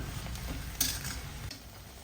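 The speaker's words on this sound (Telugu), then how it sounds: "నూనె కాగాక మనము కట్ చేసి పెట్టుకున్నాం కదండి కొత్తిమీర, మధ్యలో ఒక్కసారి ఇలా కలుపుకుందామండి." Chopped coriander frying in hot cold-pressed groundnut oil sizzles softly and steadily while a utensil stirs it, with one brief scrape partway through; the sound stays faint and close, without any voices.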